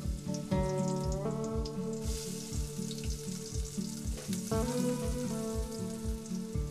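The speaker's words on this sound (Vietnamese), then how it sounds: "Mình bắt nồi lên rồi mình để dầu nóng, rồi xong rồi mình bỏ một tí tỏi để mình phi á mấy bạn" Minced garlic frying in hot oil in a pot, a steady crackling sizzle with periodic stirring or scraping knocks, close and continuous with no talking.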